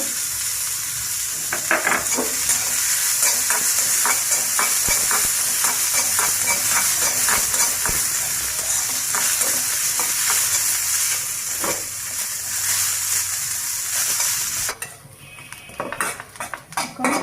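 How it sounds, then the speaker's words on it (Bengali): Onions frying in a pan for an eggplant bharta, loud steady sizzling with frequent metallic clinks and scrapes of a spatula against the pan, quieting sharply near the end. "এখন আমি পেঁয়াজটা ভেজে নেব।"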